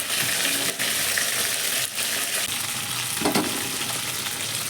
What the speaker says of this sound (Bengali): খুব বেশি ভাজবো না, হালকা করে ভেজে নিব